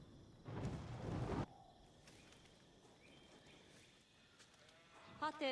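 Sheep bleating in a competitive real-time strategy match, a loud burst of bleating up front followed by quieter game ambience and a short flurry of wavering bleats at the end.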